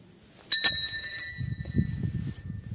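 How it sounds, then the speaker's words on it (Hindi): A Hindu temple bell in a village temple is struck twice in quick succession, a bright metallic clang followed by a long, fading shimmer. Low, indistinct voices murmur underneath as the ring dies away. "एक घंटी बजा के आता हूँ मैं।"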